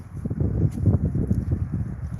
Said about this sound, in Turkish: rüzgarda adam uçar